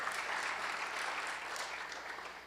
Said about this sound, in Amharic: አጨብጭቡ ለሰራዊት ጌታ ለእግዚአብሔር